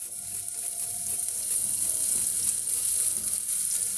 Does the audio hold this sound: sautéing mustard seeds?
yes